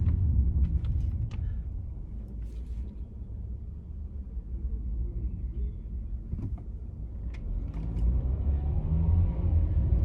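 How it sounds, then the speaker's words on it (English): A car drives along a road with a steady, close low rumble that swells and eases over about ten seconds, broken by a few faint creaks and clicks, with no talking. "this car is driving crazy"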